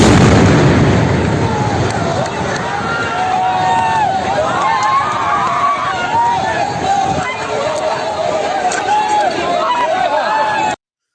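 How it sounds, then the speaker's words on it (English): A house bombed by Israeli warplanes, with a heavy blast at the start whose roar and debris rumble fade into crowd noise, shouting and people talking nearby. "This is very hard moments for the owners of this building to see their house get bombed from Israeli warplanes."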